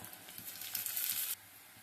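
Green chillies and onion fry in hot oil with cumin seeds, giving a steady close sizzle that swells louder for a moment and then drops back to a softer hiss.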